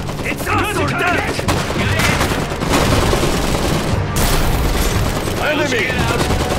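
Heavy, continuous gunfire and explosions from a battle in the game Iron Harvest, with dense rattling shots and booms filling the whole stretch and voices shouting over the din.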